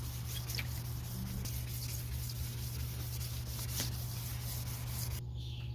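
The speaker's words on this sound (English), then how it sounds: "Sanding with wet sanding with 2000 grit." A yellowed plastic headlight lens being wet sanded by hand with 2000 grit sandpaper, giving a continuous close, soft rubbing scrape with a low steady hum beneath.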